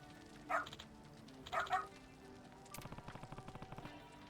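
A small dog named Leo-chan barking in Yakuza Kiwami 3: two separate yappy barks about a second apart, moderately close, followed by a soft rapid pattering.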